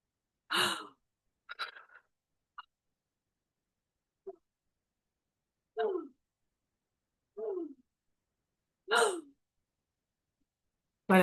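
Forceful fire-breathing exercise: seven or eight sharp, separate exhalation bursts spaced a second or two apart in near silence, each a short breathy rush, with faint softer breaths between.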